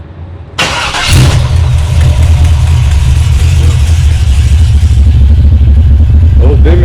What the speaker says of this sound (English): I'm about to kick this gas pedal a few times to prime it. And it should start right up.